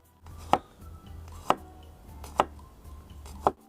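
A knife slices through garlic cloves on a cutting board, four sharp, evenly spaced chops about a second apart, close and distinct against a quiet background hum.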